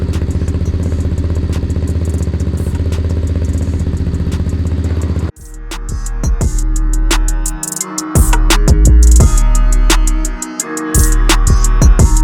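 A new 2022 Stomp pit bike engine runs close by, a buzzing, clattery idle that cuts off briefly, then returns with sharp revs and pops from the exhaust.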